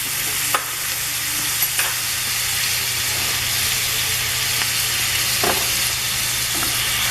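Red peppers frying with onions and other chili ingredients in a hot pot, a loud continuous sizzle and hiss with a few sharp scrapes of a stirring spoon.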